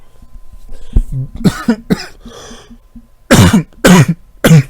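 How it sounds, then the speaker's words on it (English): A person coughs several times, a few weaker coughs followed by three loud, sharp ones close up. "A little bit of cough."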